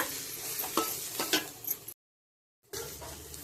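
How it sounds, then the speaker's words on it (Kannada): Masala with sambar powder frying in a pan gives a soft sizzle broken by several scraping stirs and light utensil knocks, close up, then cuts to silence before the frying resumes. "ಇದನ್ನು ಅಷ್ಟೇ ಚೆನ್ನಾಗಿ ಫ್ರೈ ಮಾಡೋಣ"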